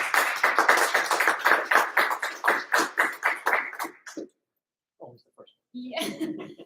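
An audience at a live startup pitch event claps in a steady burst for about four seconds, then it cuts off and brief talk follows.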